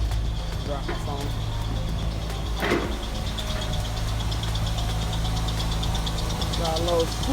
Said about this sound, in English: Besides the belt squeaking